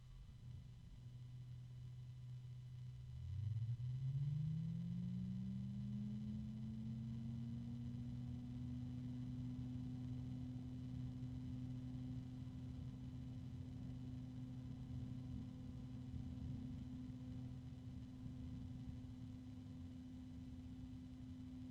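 A Noctua computer cooling fan spins up and then runs with a steady, smooth hum that holds at one pitch for the rest of the time. There is no talk over it.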